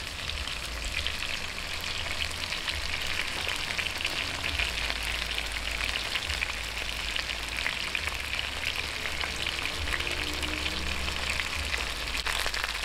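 Chicken pieces sizzle golden brown in garlic-flavored oil for adobo sa gata, a steady dense crackle of frying that runs close and even throughout with no talking.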